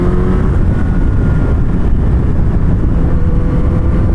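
A Suzuki Hayabusa motorcycle roars continuously at speed with a steady, loud engine note and heavy wind rush throughout, no talking.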